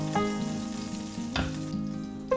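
Beef seared on high heat in a pan, a continuous close sizzle with a few sharper crackles and pops, no voices.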